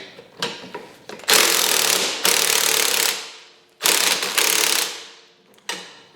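A ratchet fitted with a quarter-inch socket works bolts on an FSN 110cc ATV, giving loud, close, rapid ratcheting runs in several long strokes separated by brief pauses.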